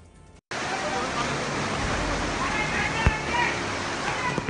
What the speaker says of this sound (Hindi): ये कोई नदी नहीं, तेज बारिश से सड़क नदी में तब्दील हो गई है।